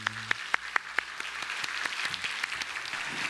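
A church congregation at a Sunday service breaks into applause after an infant baptism, starting with a few sharp distinct claps that quickly build into steady, moderate clapping from many people.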